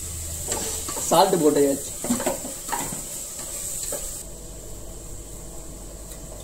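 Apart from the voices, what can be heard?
stirring chicken frying in a pan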